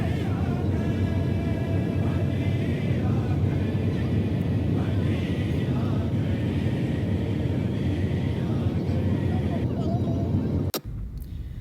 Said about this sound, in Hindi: तो जनाब ये हमारी हो रही है लैंडिंग।